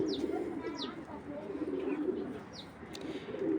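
Soft cooing from racing pigeons rumbles low and close, repeating in gentle phrases, with a few faint chirps from other birds nearby.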